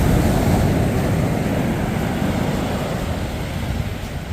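Ocean waves wash steadily onto a sandy public beach, a continuous loud surf roar with rushing water close by and some wind buffeting the microphone, no talking heard.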